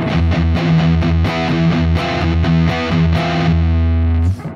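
A heavily distorted electric guitar chugs through a loud, driving hard rock riff with thick, buzzing power chords.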